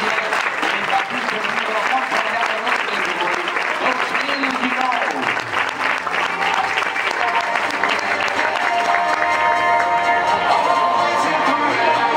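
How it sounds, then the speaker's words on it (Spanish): Sustained applause from a crowd at a youth sports club's team presentation, greeting the girls' under-14 basketball squad; dense, steady clapping fills the whole stretch, fairly loud and continuous, with some voices mixed in. "este es el fuerte aplauso que les vamos a dar a estas chicas"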